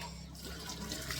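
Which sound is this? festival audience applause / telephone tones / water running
water running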